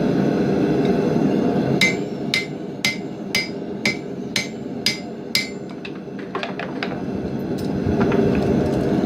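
A hammer rings against hot steel while forging a knife blade, in about seven evenly spaced heavy blows, followed by a few lighter, quicker taps.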